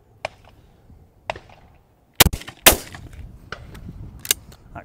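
Shotgun shots at a sporting clays ground, a few sharp loud cracks spread across the moment with fainter distant reports between them, carried on open air with light wind noise.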